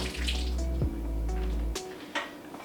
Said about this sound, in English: And then I rinse it off in case there's any eggshell left on it.